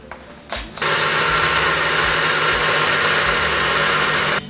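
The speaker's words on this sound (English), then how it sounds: "Let's get it over to the blender." Electric countertop blender whirring loudly and steadily as it purées a curry sauce with cilantro, starting after a short burst and running continuously for several seconds before stopping.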